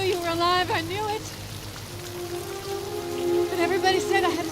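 Steady rain falls through a romantic movie kissing scene, a soft continuous patter heard under emotional voices and swelling background music.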